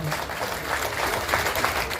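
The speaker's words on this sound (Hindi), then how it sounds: "दमदार तालियां होनी चाहिए, इतनी उपस्थिति है" Applause from a large audience at a district-level agricultural mechanisation fair in a cold season, steady dense clapping filling the whole span at moderate loudness.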